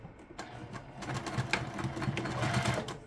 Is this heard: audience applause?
no